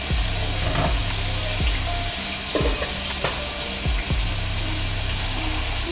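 Sirloin steak searing in a hot pan, a steady close sizzle and fry with scraping stirs and shifts at regular intervals, no talking.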